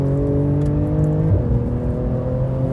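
Porsche 911 race car in a GT3 Cup run on a circuit, its engine droning loudly and steadily from onboard with a quick shift in pitch partway through.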